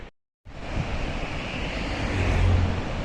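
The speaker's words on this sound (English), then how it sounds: "Can you see the Indus River and hear it?" After a brief silence, a broad steady roar of the Indus River rushing in Ladakh fills the clip, loud and continuous, with some wind noise.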